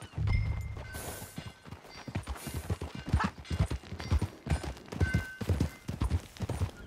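Hooves clip-clop in a quick, steady trotting rhythm on hard ground, fairly close, with a snort at the start; a horse in the video game Red Dead Redemption 2.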